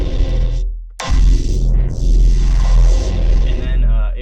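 Heavy neuro bass synth patch run through a glue compressor with makeup gain, loud and dense with growling low end and shifting, sweeping upper harmonics, cutting out briefly near the start before slamming back in.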